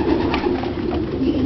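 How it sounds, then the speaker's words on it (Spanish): Pigeons drink water and eat while giving soft, continuous low cooing. The murmuring is close and steady and layers over itself, with no voices present. "Aquí están ya las palomas tomando agua y comiendo."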